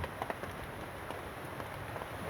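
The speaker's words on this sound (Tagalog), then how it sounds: "nalakas na naman yung ambon" Light drizzle falling in the Sierra Madre mountains, a steady, soft patter of raindrops on surfaces that continues evenly throughout, close and moderately quiet with no voices.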